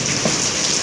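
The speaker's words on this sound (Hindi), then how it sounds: "इनको पता ही नहीं है बाहर कितनी तेज बारिश हो रही है" Heavy rain falls outside in a steady, loud hiss of dense drops on surfaces, close and continuous throughout with no other sounds over it.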